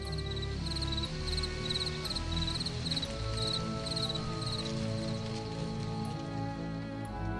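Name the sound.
crickets chirping at night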